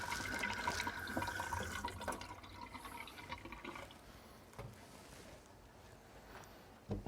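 Running water pours over a bowling ball as it is rinsed, a steady splashing stream that is fuller at first and then thins to a softer trickle, with no talk.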